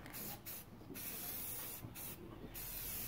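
A spray can coats the wiper arms of a 1995 Ford Ranger in several hissing bursts with short gaps between them, close and steady, without talk.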